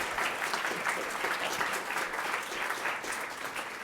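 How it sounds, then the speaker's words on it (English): An audience at a lecture event claps for a speaker, a dense steady applause that fills the room from start to end. "give a round of applause to Stephen, please"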